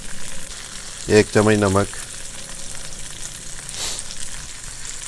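Peas frying in oil with garam masala for matar pulao crackle in a steady sizzle, while a person speaks briefly over the sound.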